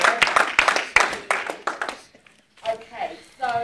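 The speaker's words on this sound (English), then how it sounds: "Give yourselves a round of applause" An indoor audience at a workshop breaks into a brief, close patter of clapping that thins out, followed by a voice speaking.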